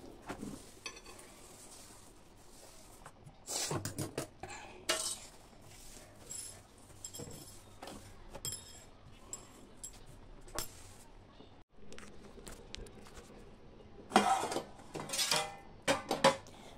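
Dishes, pots and cutlery clatter and clink in a home kitchen during cleanup while rice cooks, with sharp bursts of scraping and knocking scattered over a quiet background and a loud cluster near the end.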